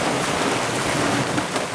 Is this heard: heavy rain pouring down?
yes